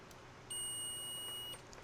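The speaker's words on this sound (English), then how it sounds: "And it'll do a long beep." A cheap multimeter in continuity mode gives one long, shrill, piercing beep lasting about a second, a steady high tone with a fainter overtone, sounding alone against quiet room noise.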